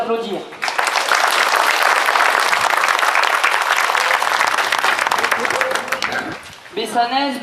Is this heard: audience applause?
yes